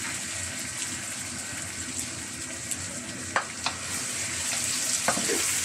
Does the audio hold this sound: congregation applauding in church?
no